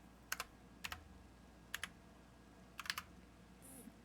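Faint keystrokes on a computer keyboard come in small clusters of two or three taps, separated by short pauses, against a quiet background.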